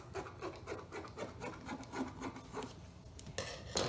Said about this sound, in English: I'm just going to cut a strip like this